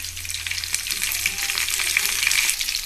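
Curry leaves drop into hot oil already holding cumin, mustard seeds, green chillies and urad dal for a potato fry, setting off a loud, dense, steady sizzle that crackles evenly throughout with no talking.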